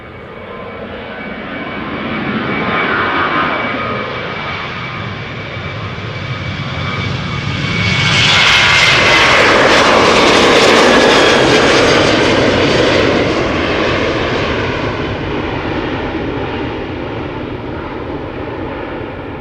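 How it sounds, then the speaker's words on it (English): A KLM Boeing 737-800 bound for Stockholm takes off at Amsterdam Schiphol, its jet engine roar swelling up close to a loud peak midway, then easing slightly while staying strong and continuous. "KLM is already coming this way. It is going to Stockholm. It's a 737-800"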